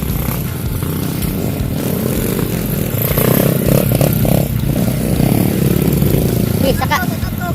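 A trail motorcycle engine revving on a muddy extreme trail ride, a loud, close, rough droning roar with rising and falling throttle, with people talking nearby.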